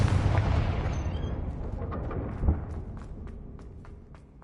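A Confringo fire spell explodes in Hogwarts Legacy with a heavy, rumbling boom that slowly decays, broken by a sharp crack midway and a series of faint ticking pops as the blast dies away.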